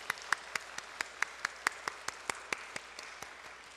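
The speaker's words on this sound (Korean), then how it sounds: "우리 하나님께 영광의 박수 한번 올려드리겠습니다" A church congregation at a Sunday service claps in unison with quick, evenly spaced beats. The clapping is fairly faint and continues steadily for several seconds.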